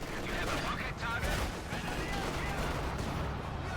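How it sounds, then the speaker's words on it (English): Panzerwerfer rocket launcher firing during a chaotic Company of Heroes 2 battle, a dense wash of rocket launches, gunfire and blasts, loud and continuous, with a voice talking over it. "Panzerwerfer fires."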